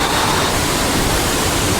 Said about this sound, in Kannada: ಇಲ್ಲಿಂದ ನೀರು ಬೀಳಾಕತ್ತಾವ ಮೇಲಿಂದ